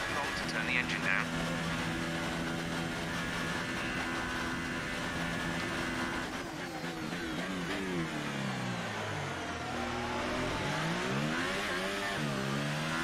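The engine of a Formula 1 racing car in a video game revs and shifts steadily, its pitch dipping and sweeping back up under a driver's voice that keeps talking throughout.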